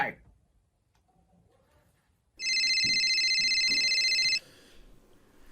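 A telephone rings once in a loud, electronic trilling burst lasting about two seconds, heard close after a quiet stretch with faint background murmur.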